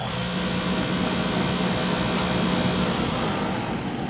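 A PDP-1 computer programmed to play a song produces a steady, noisy mechanical whir with faint sustained tones buried inside, constant in level throughout.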